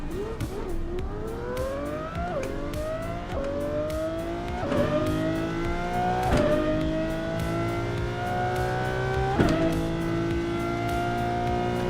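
A car engine revs and climbs through repeated gear shifts while driving in a racing video game, a steady loud drone with a rising pitch that drops at each shift, heard alone without talk.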